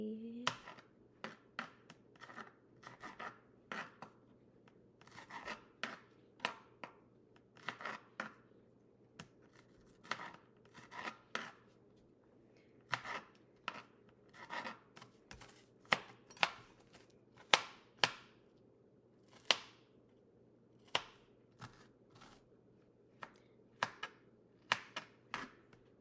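A knife chopping jalapeños on a cutting board: a long run of sharp, crisp taps, fairly evenly paced with brief pauses, close and clear over a quiet kitchen background with faint speech.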